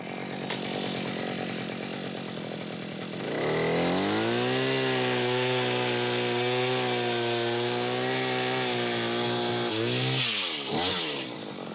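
A gas-powered ice auger drills a fishing hole through river ice, its engine starting and then roaring loud and steady for several seconds before cutting out near the end.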